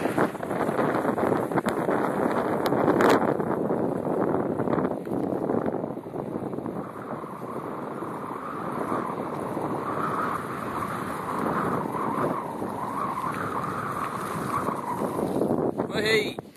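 Strong wind buffets the microphone while cycling down winding roads in Greece toward an approaching storm, a steady loud roar of gusts throughout.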